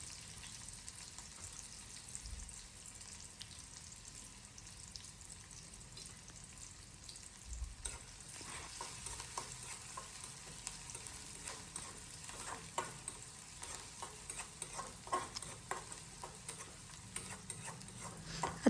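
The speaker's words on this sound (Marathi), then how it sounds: "कांदा टाकून थोडासा लालसर होईस तोपर्यंत तो आपल्याला परतून घ्यायचा आहे" Sliced onion frying in oil in a kadhai, a steady soft sizzle with occasional stirring scrapes and clinks that grow busier and louder in the second half.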